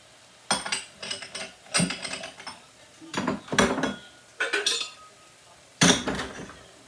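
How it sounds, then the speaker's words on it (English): Dry rice measured out in cup scoops and poured into a pot, giving a series of sharp rattling, clinking bursts with short pauses between them, loud and close with no talk. "I'm going to do 2 cups of rice."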